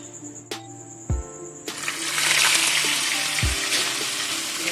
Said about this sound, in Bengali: এবার আমি মাছগুলোকে ভেজে নেব।